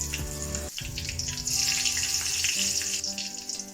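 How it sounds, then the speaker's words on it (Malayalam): Raisins, black pepper, star anise and cloves fry in hot fat, making a loud, continuous close sizzle with one sharp clatter near the start and no talking. "മുന്തിരി നല്ല പൊള്ളച്ച് സുന്ദരിയായി കുരുമുളക് തക്കോലം ഗ്രാമ്പു എല്ലാം ഒന്ന് ഇട്ട് കൊടുക്കാം"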